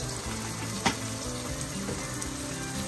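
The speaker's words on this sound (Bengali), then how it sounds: "সব মশলা দিয়ে ভালো করে কষিয়ে নিচ্ছে" Ginger, garlic and green chili paste fry with chili powder and cumin in a pan, giving a steady, close sizzle with a brief stirring scrape partway through.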